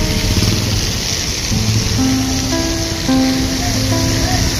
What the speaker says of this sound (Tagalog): 8 hours na umuulan.